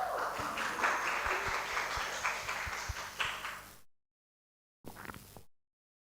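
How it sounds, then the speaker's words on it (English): Applause from an audience at an elementary-school storytelling contest, a dense patter of claps lasting about four seconds before cutting off, then a short renewed burst. "let's give a round of applause for Leilani Lucretia Maria Peniwatun from"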